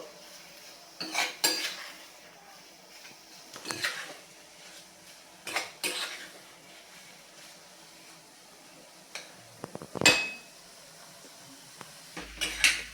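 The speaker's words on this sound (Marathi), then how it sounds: "जेणेकरून आपला शिरा किंवा हा बटाटा खाली लागणार नाही आणि सतत ढवळत राहायचं आहे" Potato sheera being stirred continuously in a pan, with sporadic spoon scrapes and clinks against the metal separated by quiet pauses.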